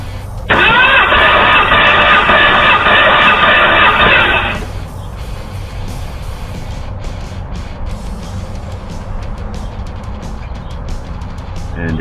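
An engine cranks over during a cylinder compression test, first as a loud, steady rhythmic whirring burst lasting about four seconds, then cutting off to leave quieter background noise.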